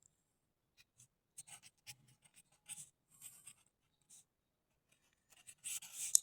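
Chalk or marker writing on a board during a maths lesson, with faint, scattered scratching strokes in short bursts and a slightly louder flurry at the end.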